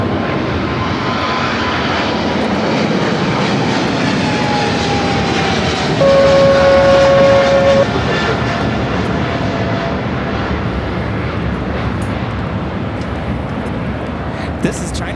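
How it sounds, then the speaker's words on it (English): A China Airlines Cargo Boeing 777 freighter takes off at LAX, its engines producing a loud, sustained roar with a whining tone, while a person talks over the noise. "This is China Airlines Cargo 5137 taking off to Taipei on a 777 freighter"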